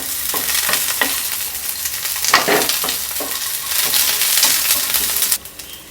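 Curry leaves sizzle and crackle in hot oil in a pan for a Mangalore-style crab sukka, a steady close hiss broken by stirring scrapes, then cutting off abruptly near the end.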